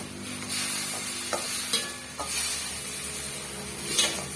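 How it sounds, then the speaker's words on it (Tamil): Small cut potato pieces fry in a pan and get stirred, with a steady sizzle broken by several spatula scrapes and light knocks against the metal. "இடையிடையே வந்து கிளறி கொடுத்துக்கோங்க இல்லைன்னா அடி பிடிக்கும்"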